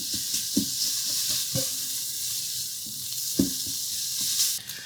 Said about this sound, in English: So the first thing we're going to do is brown off a little bacon in here.